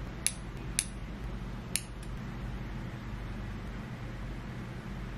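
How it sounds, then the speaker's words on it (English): Scissors snip eyebrow hairs during an at-home beauty routine, giving three or four crisp, close clicks in the first two seconds over a steady low background hum, then only the hum. "taking the scissors and just cutting straight across"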